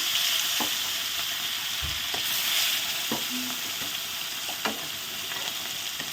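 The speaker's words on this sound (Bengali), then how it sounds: "মাছগুলো এখন ভেজে নেই দেখো খুন্তি দিয়ে দিয়ে দিই" Rohu fish pieces fry in hot oil with a constant, close hiss and sizzle, punctuated by a few sharp clicks and scrapes as a metal spatula turns them in the pan.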